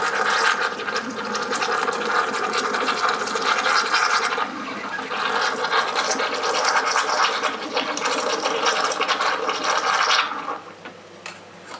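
A Saeco Poemia HD8325 coffee machine frothing milk, a loud continuous hissing, gurgling steam that runs steadily for about ten seconds before cutting off, leaving a quieter hum.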